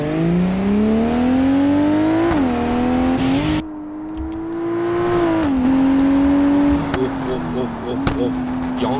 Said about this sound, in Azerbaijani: Bu maşın da 3 motordur, lakin bunda turbo stage var